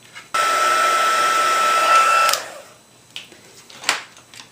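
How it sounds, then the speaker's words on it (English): A heat gun heat-setting ink on a handmade easel card, starting abruptly as a steady close whooshing blower hum for about two seconds, then switching off, followed by faint handling rustles. "And of course we will heat set these"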